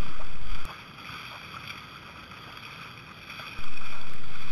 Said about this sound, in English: Nickel Point, and we're on a fast beam reach.